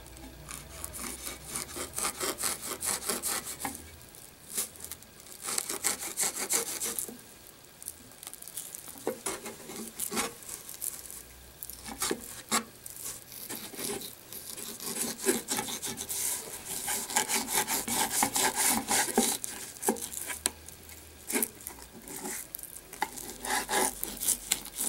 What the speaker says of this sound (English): See if I can get that skin off like Buddy showed